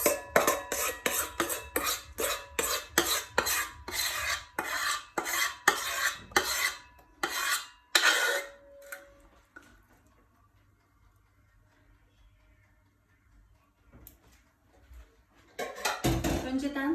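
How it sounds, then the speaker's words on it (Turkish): Whisked cake batter for a German cake is poured and scraped into a baking pan with a run of quick, rhythmic scraping strokes close by. A long quiet pause follows before the scraping resumes. "çırpılmış olan hamurumuzu, pardon, kalıbımıza döküyoruz."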